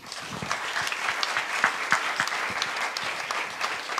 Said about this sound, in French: je voudrais vraiment que vous les applaudissiez